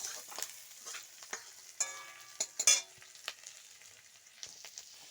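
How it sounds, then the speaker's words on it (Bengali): Spice paste with green chilli and onion fries in a wok, a crackling sizzle with sharp clinks and scrapes of stirring scattered across it, close and fairly loud, with no voices. "দেখো কড়াইয়ে কাঁচা লঙ্কা আর পেঁয়াজ দিয়ে দিয়েছি।"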